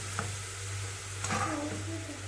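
Carrots for gajar halwa being stirred in a frying pan, a steady low sizzle with a few soft scraping strokes, close and moderately quiet with no voices.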